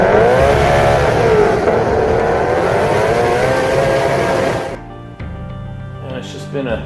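A 1200 HP Nelson Racing Engines Shelby Code Red Ford engine revs loud and close, its pitch rising and falling through sustained runs before cutting off, with talk over the end.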